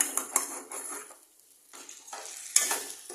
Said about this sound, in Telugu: సో అట్లా బాగా ఫ్రై చేసేసుకుందాం